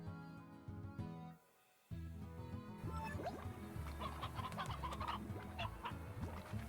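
Chickens clucking in the video game Slime Rancher, a cluster of soft, repeated clucks and chirps layered over game ambience after a brief drop to quiet.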